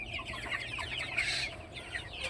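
Many chickens cluck and murmur together on a poultry farm, a dense, continuous chorus of overlapping calls heard from nearby.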